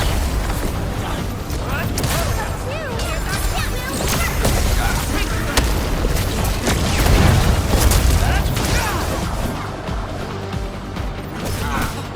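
Weapon fire and explosions from the video game Arknights: Endfield, a dense, continuous barrage of booms, crashes and mechanical clatter across the whole stretch with a louder burst near the end, mixed with game sounds and voice.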